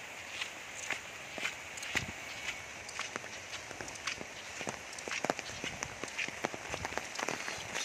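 Heavy rain falling in Malaysia, a dense, steady hiss of water with many sharp drop impacts close by, continuous throughout.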